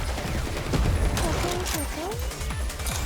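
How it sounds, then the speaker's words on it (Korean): A volley gunfire skill in the video game NIKKE, a burst of rapid synthetic shots and impacts layered with game effects and a character voice over busy battle sound. "크라 일제 사격"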